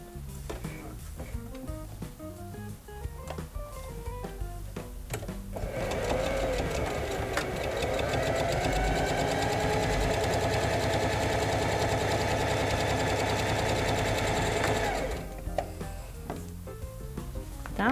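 A sewing machine runs steadily for about nine seconds, stitching together the seams of a crossbody bag made from milk cartons, with quieter handling sounds before and after the run.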